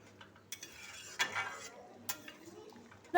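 Katla fish curry being stirred in a pan after a sprinkle of garam masala, with a few sharp utensil scrapes and clinks against the metal over a soft background, quiet and close.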